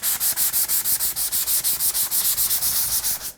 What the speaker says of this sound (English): And now I can just sand the entire thing.